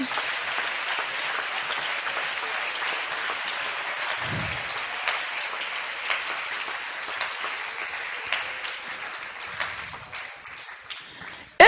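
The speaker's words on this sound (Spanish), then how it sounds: "Dale un aplauso al Señor en esta hora." A church congregation applauding during a sermon, a dense, continuous wash of clapping that holds steady for several seconds before tapering slightly at the end.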